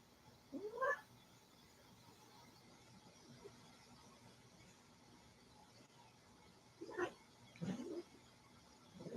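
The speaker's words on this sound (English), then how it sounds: "I don't need a cat wrestling match right now, Smokey." Cats scrapping, with a pet cat named Smokey involved: a brief squealing yowl near the start, then a cluster of sharp caterwauls and hisses toward the end, fairly faint against a quiet room.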